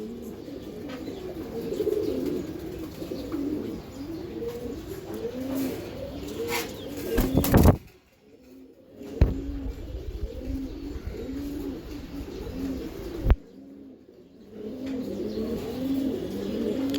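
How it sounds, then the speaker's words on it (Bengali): Iranian highflyer pigeons coo steadily in a loft, overlapping rolling calls close by, broken twice by brief bursts of handling noise and wing flutter. "ইরানি হাইফ্লিয়ার কবুতর"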